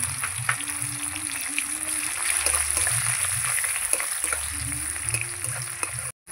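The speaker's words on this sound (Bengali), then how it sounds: "পেঁয়াজটা আমি ভেজে নিয়েছি" Onions sizzle and crackle steadily in hot oil over an outdoor clay stove, a close, continuous fry that runs the whole time before cutting out abruptly at the end.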